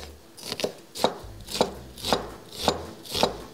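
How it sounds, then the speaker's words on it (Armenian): A knife dicing onion into small cubes on a cutting board, six evenly spaced crisp chops in a steady rhythm, close and clear with no talking. "Մինչև այս ստականա կարող ենք կտրատել սոխը"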